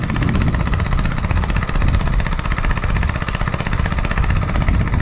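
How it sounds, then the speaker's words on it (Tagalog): A loud, smoking engine runs steadily nearby, a constant throbbing drone with rapid regular pulses and no pauses. "umuusok ang makina"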